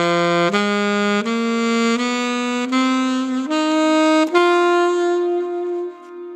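A saxophone plays a D blues scale straight up, seven clean sustained notes stepping higher one after another, solo and close, with the last note held and fading out.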